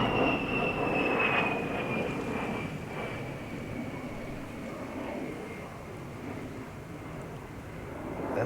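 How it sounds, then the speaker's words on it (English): A military plane passing over a wooded area, a steady broad roar with a slowly falling whine, loudest early and gradually fading while staying present throughout. "That's a very strange looking plane"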